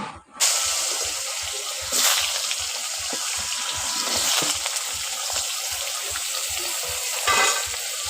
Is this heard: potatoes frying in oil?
yes